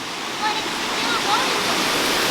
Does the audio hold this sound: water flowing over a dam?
yes